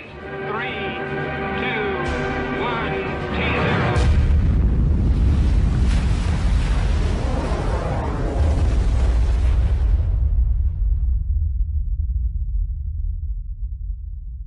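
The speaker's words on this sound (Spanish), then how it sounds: "La potencia de la explosión es similar a la de 10 millones de toneladas de TNT" A thermonuclear bomb test explosion: sustained tonal sounds give way to a loud, broadband roaring blast that rumbles on for several seconds before fading into a deep, lingering low rumble.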